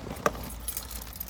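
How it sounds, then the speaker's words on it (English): A short, close jingle of keys inside a school book bag, one quick shake in a quiet room. "Keys in my book bag."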